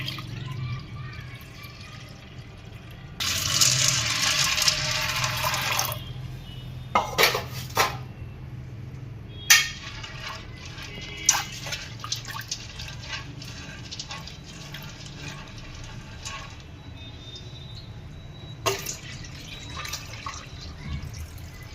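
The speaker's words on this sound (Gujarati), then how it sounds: "ચણા દાળને આપણે 2-3 પાણીએ ધોઈ નાખીએ।" About 250 grams of chana dal is rinsed in a bowl in two or three changes of water, with a loud gush of pouring water, then sloshing, dripping and clinks of the vessel nearby, with no voices.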